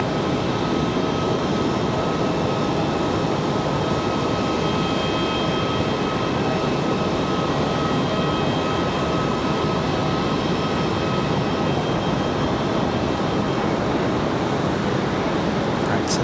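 An airliner arriving from LAX at Raleigh-Durham airport gives a steady, loud broadband jet roar that holds throughout, with faint radio chatter beneath.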